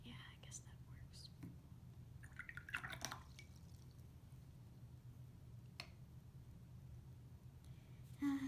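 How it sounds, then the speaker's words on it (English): A paintbrush is swished and dabbed in a cup of water, giving faint scattered splashes and drips over quiet room hum, with a couple of slightly louder sloshes. "Now you can try to get the green out of your brush. I use water."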